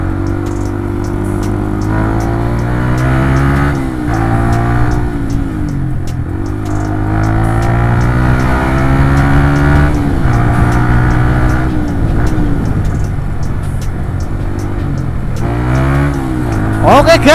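A modified Yamaha Vixion NVL (New Vision Lightning) motorcycle with orange bodywork runs through a test ride, its engine droning steadily with rising and falling pitch as it revs and shifts, loud and continuous throughout.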